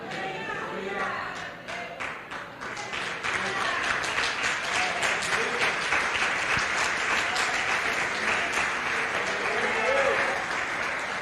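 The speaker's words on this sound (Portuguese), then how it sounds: "Vamos melhorar essas palmas," A church congregation at a Sunday evening service breaks into sustained applause, many hands clapping steadily and growing fuller after a few seconds, with a voice speaking over the crowd.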